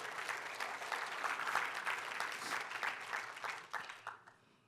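A church congregation applauds during a sermon, a steady patter of many hands heard at a moderate distance and fairly quiet, thinning out and fading away near the end.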